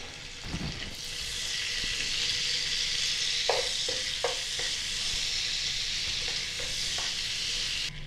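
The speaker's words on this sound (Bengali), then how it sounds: "গোটা গরম মশলাগুলো ফোড়নে দিয়ে দিলাম" Whole garam masala spices fry in butter and white oil, making a continuous close sizzle broken by a few stirring scrapes and taps against the pan.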